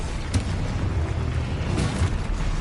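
The Confringo spell from Hogwarts Legacy erupts in booming, rumbling blasts, with sharper pops near the start and near the end over a continuous noisy bed.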